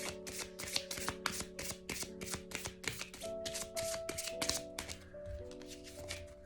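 Tarot deck cards being shuffled by hand, a rapid series of crisp riffling flicks and taps repeating steadily and close, with a faint background hum and no voices.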